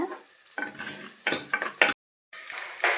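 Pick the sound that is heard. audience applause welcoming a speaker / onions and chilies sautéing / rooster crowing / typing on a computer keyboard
onions and chilies sautéing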